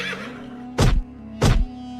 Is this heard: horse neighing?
yes